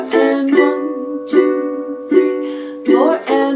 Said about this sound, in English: We can also do a basic rock strum.